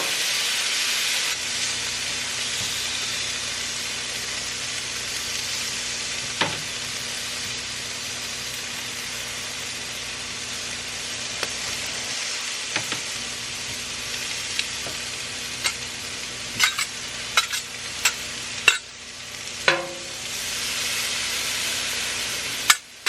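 Tomatoes and onions fry on a Blackstone griddle with a loud, continuous broadband sizzle, punctuated by scattered clicks and scrapes of a spatula, close up and without speech.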